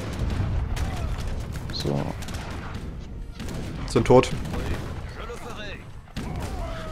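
Organ guns and skirmishers firing in a battle in the video game Age of Empires III, with scattered cracks and a louder volley near the middle over a busy battlefield din, while someone talks over it.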